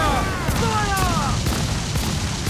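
Ship cannons boom in a naval battle in Assassin's Creed IV Black Flag, with dense overlapping blasts and rumbling under a busy din of shouting crew voices.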